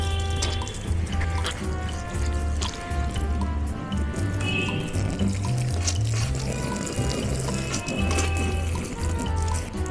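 Water is sprayed hard and continuously over a motorcycle tail bag during a waterproof test, a loud, dense hiss and splatter with no pauses throughout.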